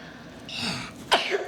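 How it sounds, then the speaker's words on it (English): A child sneezes once at close range, a sharp burst after a short breathy intake, in a home kitchen while making pie; no talk over it. "people say that when people sneeze"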